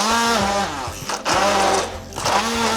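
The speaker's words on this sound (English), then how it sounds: "And now we just need to blend everything with an immersion blender." Immersion blender pureeing soup made with roasted carrots, a steady motor whine that dips and surges as the blade works through the mixture, loud and close, with no talking.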